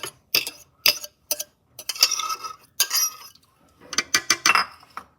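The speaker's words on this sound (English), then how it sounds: "mash up 2 medium-sized bananas" A fork clinks and taps irregularly against a bowl while two medium-sized bananas are mashed for a banana cheesecake, the clatter close and sharp with brief pauses and no talking.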